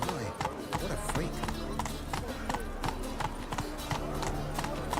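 Horse hooves clip-clop in a steady trotting rhythm in The Witcher 3 game, close and continuous, with character dialogue and background music running over them.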